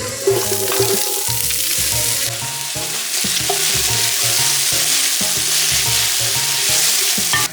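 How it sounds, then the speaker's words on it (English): Chopped celery, onion and garlic cook in melted butter in a pot, giving a loud, steady sizzle close by, with frequent scraping and clunking from a spoon stirring them. "We're gonna put a blob of butter in the pan. All of our chopped vegetables in the pot."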